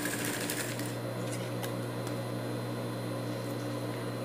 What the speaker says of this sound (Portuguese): Vou costurar aqui primeiro.